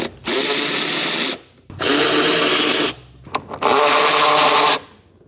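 A power tool spins out bolts from the top piece of a Mercedes M156 engine in three loud, close bursts of about a second each, separated by short pauses with faint clinks.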